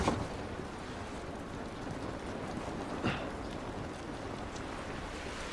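Steady, dense hiss of rain falling in The Last of Us video game, constant and fairly faint, with a brief soft thump partway through and no talking.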